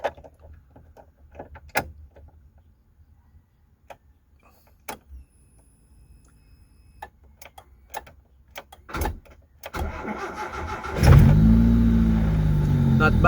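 Daihatsu Charade fitted with a Honda engine cranks and fires from a cold start, settling into a loud, steady idle close by after scattered cabin clicks and thumps.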